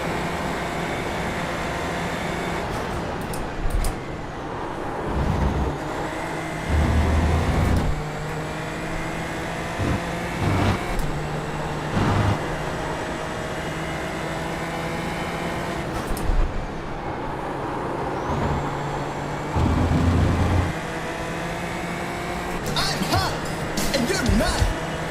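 Cars passing on a road heard as a continuous loud rumble and roar, with vehicles swelling by at intervals under strong wind-like noise.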